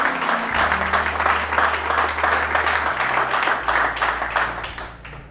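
A church congregation applauds and cheers for God at a French-language sermon, sustained loud clapping from many hands over a low droning musical tone.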